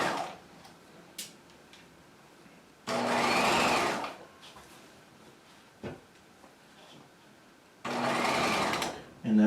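A sewing machine stitches jacket collar seams through layers of muslin in two short, close runs of steady whirring, each about a second long, with quiet room tone and faint handling noises between.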